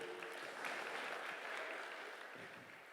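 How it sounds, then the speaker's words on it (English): A congregation at a Sunday church service applauds to welcome a man called up front, a soft, dense wash of clapping heard from a distance, steady and then tapering slightly. "Can we just make Frank feel welcome, guys? Give him a round of applause."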